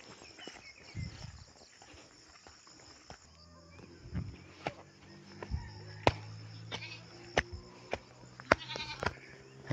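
Pet goats on a farm, with scattered bleats and calls over footsteps and rustling, some close and some farther off, with sharp knocks in between.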